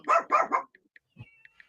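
A dog barks three times in quick succession, loud and close, followed by a few faint clicks and small noises in an otherwise quiet room.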